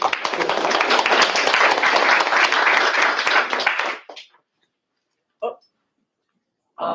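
Dense applause from an audience at a panel discussion fills the first four seconds, then stops abruptly, followed by silence and two brief short bursts of sound.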